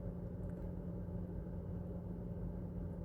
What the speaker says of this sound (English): if you can hear a fan in the background, that's my car.